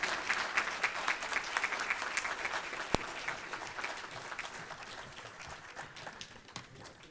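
Conference audience applauding at an international technical and vocational education gathering: a sustained, dense wash of clapping from many hands, fairly even throughout with one sharp click near the middle.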